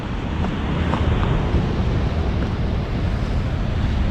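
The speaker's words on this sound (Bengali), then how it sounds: "জোয়ারের পানি" Tidal seawater on the Portuguese coast surges and washes over rocks in a steady, loud roar of surf, with gusty wind buffeting throughout and no voices.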